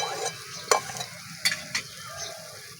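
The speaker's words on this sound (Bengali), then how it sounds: "মশলাটাকে ভালো করে ভেজে নেব।" Spice paste for a Bengali vegetarian cabbage dish frying in a pan, a soft continuous sizzle broken by a few sharp stirring scrapes, close and alone with no voices.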